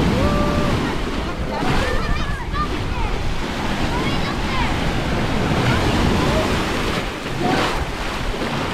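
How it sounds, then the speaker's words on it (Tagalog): Ocean waves crash and wash on the shore at a beach resort in Davao City, a loud continuous surf with heavy wind buffeting the microphone and people talking over it. "Grabe yung hampas ng waves."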